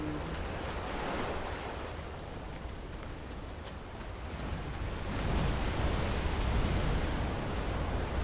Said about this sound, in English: I just want to walk along and watch the waves